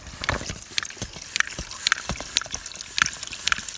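On a camping trip, water trickles and drips through a portable camping water filter, with irregular splashes and droplet plinks close by over a steady wet rush and no talking.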